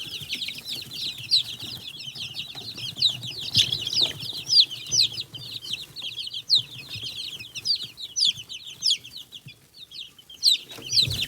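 A mixed-age flock of chickens, from one-week-old chicks to eleven-week-old birds, clucks and peeps continuously in a coop, with busy overlapping high chirps and occasional soft wing flutters close by.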